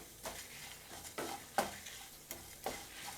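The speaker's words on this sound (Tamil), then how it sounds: "எனக்கு மிளகா நல்ல கோல்டன் ப்ரௌன் ஆகி நல்லா வறுபடணும்" Chillies roasting in a pan with a drop of oil for Chettinad masala, a faint dry crackle with several distinct scraping stirs spaced about half a second apart, quiet and close.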